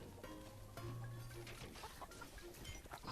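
Chickens clucking in the video game Warcraft Arclight Rumble, brief cartoonish fowl calls mixed into busy game sounds with a sustained tone over a short stretch.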